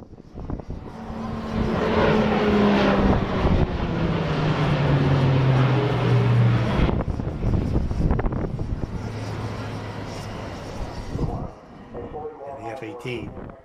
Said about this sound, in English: Kai's about to see the E-2C Hawkeye